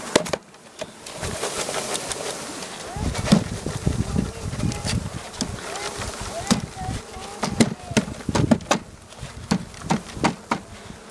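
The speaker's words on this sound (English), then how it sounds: "All the bees are going down into the box." Honeybees hum and buzz steadily while being installed into a hive box, with a sharp tap or knock now and then over the swarm's drone.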